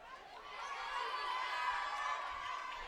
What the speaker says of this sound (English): the crowd putting on a nice show